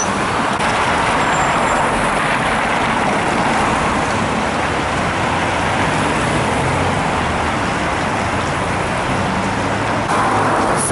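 Steady roadway noise of cars and trucks passing on a dry winter road in Saint Petersburg near the Neva, a continuous broadband hiss and rumble throughout with no talk.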